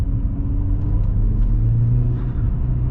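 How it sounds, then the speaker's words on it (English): Steady, loud low engine rumble from inside a moving car, a droning cabin hum with slight fluctuations and no voices. "But from inside the car, it sounds pretty decent."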